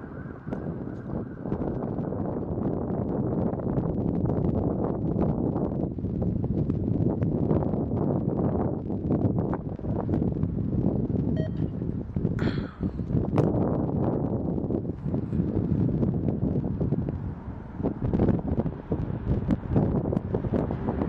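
Wind gusting across a railroad yard where NYSW SD diesel locomotives shunt, a steady loud roar buffeting the microphone throughout with faint rumbling underneath.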